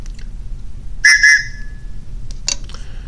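A TOPS Knives whistle blown to mimic a train gives two short, shrill chord-like blasts close together, then a fainter third toot after a pause.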